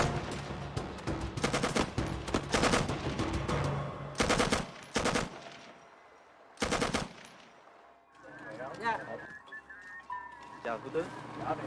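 Machine-gun cover fire laid down from a sampan in Vietnam: bursts of rapid shots in clusters, loud and close, followed by shouting voices and radio-like chatter under lighter fire.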